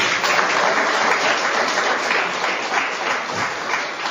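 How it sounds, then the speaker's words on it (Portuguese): A church congregation claps together in steady, dense applause that holds at an even, fairly loud level throughout, with no voices standing out. "Palmas para o Senhor Jesus."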